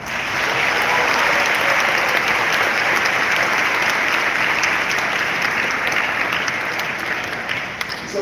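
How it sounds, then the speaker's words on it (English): Sustained applause from a large graduation audience for faculty and families, loud and dense throughout, with a slight fade near the end. "Please give your faculty and your folks an applause."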